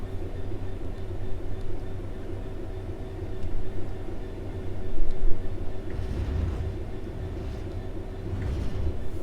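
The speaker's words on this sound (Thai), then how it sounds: "จะปล่อยเครื่องให้ไหลไปเรื่อยๆนะครับจนกว่าจะหยุดนะ" Train rolling in Train Sim World 3, coasting with power off toward a stop, a steady low rumble of wheels and machinery throughout with a slight swell midway and no talk.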